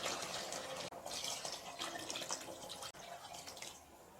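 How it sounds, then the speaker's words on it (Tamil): Water pours into a pressure cooker of chicken biryani, a quiet, continuous splashing trickle with two brief breaks, close by and without speech. "2 கப் அரிசிக்கு 3 கப் தண்ணி ஆட் பண்ண போகிறோமா."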